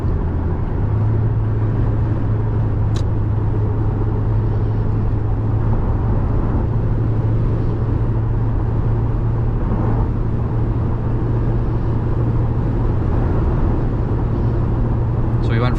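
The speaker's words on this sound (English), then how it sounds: "I'm gonna jump my speed by about 10 miles an hour to pass this truck." A 3rd gen Toyota Tacoma with a ValleyRunner tune speeds up on a highway to pass a truck; a steady low engine drone and road roar fill the cabin, with a voice talking over it.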